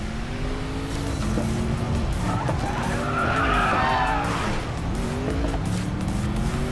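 An Audi RS7 in the Racing Master video game squeals its tires in a long, wavering skid over a steady engine drone, loud and close throughout.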